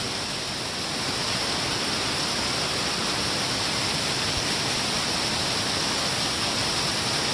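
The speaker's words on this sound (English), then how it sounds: "noise pollution over here with the waterfall" Steady, loud broadband roar of rushing water, continuous and unbroken throughout, with no voices.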